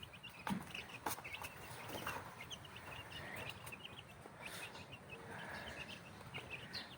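Chicks and hens cluck and peep continuously over a busy, noisy background, with scattered chirps and soft calls throughout.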